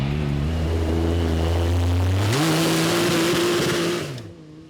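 A Lexus hydrogen-engine off-road vehicle idles with a low hum, then revs up into a higher steady drone before cutting off and fading quickly.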